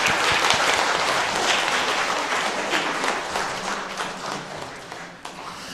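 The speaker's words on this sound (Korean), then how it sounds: "우리 이 시간 어르신들을 위해서 한번 박수로 격려하겠습니다." A church congregation applauds the elders during an anniversary Sunday service, a dense, loud, sustained wash of clapping that holds steady for several seconds before easing slightly.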